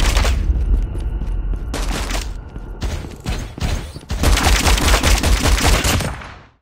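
Bursts of gunfire in the Call of Duty Mobile video game, with loud overlapping automatic fire and shots coming in several clusters, broken by brief pauses and then a sustained volley near the end.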